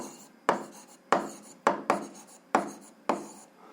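Handwriting on paper during a physics lesson, six distinct scratchy pen strokes in an uneven rhythm, each a short close rasp fading out, with no talking over them.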